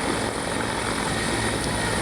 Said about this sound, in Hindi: ये आप योगी आदित्यनाथ के हेलीकॉप्टर उतरने की तस्वीरें झांसी में आप देख रहे हैं।